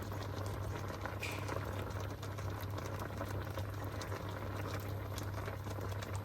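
Strawberry jam with sugar bubbling as it cooks in a pan, a continuous close popping and sputtering patter over a low steady hum, with no talk.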